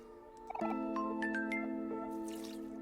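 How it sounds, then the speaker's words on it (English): Water pouring onto plants in the video game Omori, a steady trickling, filling sound with chiming game tones over it, fairly close and continuous. "we need to re-water these plants"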